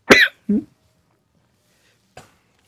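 Two sharp coughs in quick succession, close and loud, followed by a brief fainter third cough after a pause.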